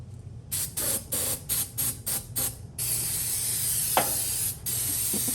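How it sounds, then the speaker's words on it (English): Short hissing bursts of an aerosol spray repeat quickly over engine parts and bearings, then one long continuous spray hisses up close, with a small clink partway through. "I'm gonna spray it down one more time"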